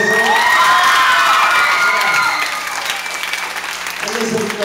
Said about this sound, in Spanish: Necesitamos un aplauso para el maestro José Luis Paraguay